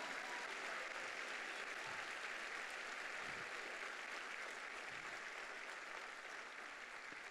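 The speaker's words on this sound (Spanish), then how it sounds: "denle fuerte ese aplauso al Cristo de la gloria" A church congregation at a Sunday morning service applauds for Christ, a continuous wash of many hands clapping, even and sustained but faint and distant throughout.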